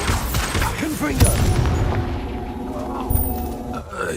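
A Confringo fire spell erupts in Hogwarts Legacy with a heavy booming blast followed by a rumbling tail, while a voice calls out over the impact.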